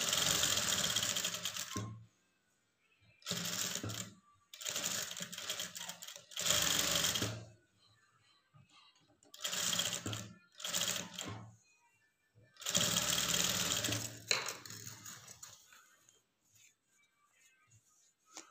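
A domestic sewing machine stitches a blouse lining in several separate bursts of steady, buzzing running, each lasting a second or two and separated by pauses of near silence, close and fairly loud.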